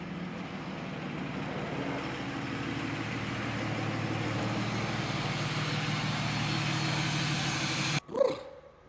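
A truck on 37-inch tires revs and spins on gravel. A steady engine drone builds over several seconds and ends in a sharp burst and cutoff near the end. No one talks.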